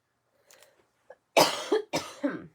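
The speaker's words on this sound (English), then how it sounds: "It's getting a little warm down in my room, and that makes me cough more." Indoor coughing: two faint soft coughs and a small catch first, then two loud harsh close-up coughs, each with a rough trailing tail, no talking.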